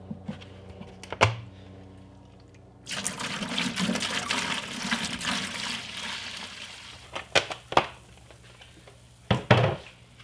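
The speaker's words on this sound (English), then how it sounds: "And we need to add our vinegar." Vinegar pours into a bucket with a rushing, splashing liquid flow after a quiet start, interrupted by a few sharp knocks and clunks near the end.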